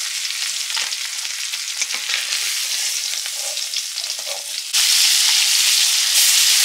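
Large prawns frying in hot oil, a loud, close, continuous sizzle with crackling spatters that jumps to a brighter, more intense hiss partway through.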